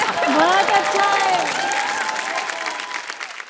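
Loud, sustained audience applause at a Hindi poetry gathering (kavi sammelan) on a family TV show, dense clapping filling the whole stretch with some voices and cheering mixed in, tapering slightly toward the end.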